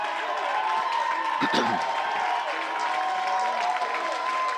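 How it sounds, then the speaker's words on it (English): Crowd at a high school baseball game cheers and claps as a batter comes to the plate, a moderate steady applause with cheering, heard beneath a talking announcer. "Stephen McLennan getting an added cheer as he comes to the plate for a brilliant pitching performance"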